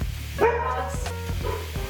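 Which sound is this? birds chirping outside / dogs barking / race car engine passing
dogs barking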